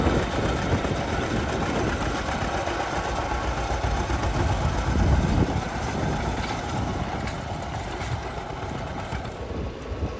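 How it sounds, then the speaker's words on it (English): An unstyled John Deere A tractor works steadily at a plowing contest, pulling a 12-inch-frame John Deere 4B plow with EP bottoms. Its engine gives a continuous, fairly loud, even chugging drone that holds for the whole stretch. "driving an unstyled A John Deere, pulling a 12-inch frame John Deere 4B plow equipped with EP bottoms"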